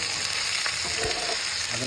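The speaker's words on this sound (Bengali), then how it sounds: "লতিগুলো চলে গেল ওরে বাবা এই ভাজাভাজি চলছে" Taro stolons sizzle loudly in hot oil with dried chili and nigella seeds, a dense, steady frying hiss broken by stirring scrapes and clatters close at hand.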